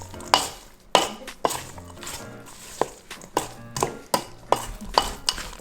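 Sisig being mixed with ground black pepper, a series of rhythmic scraping and clinking strokes of a utensil against the pan, about one or two per second, over a faint sizzle.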